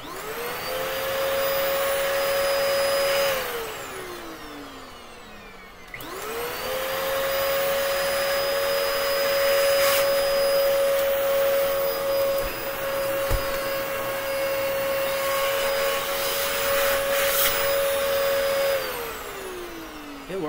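A Dyson vacuum cleaner motor runs loud and steady with a high whine, winding down once around the middle, then spinning back up and holding.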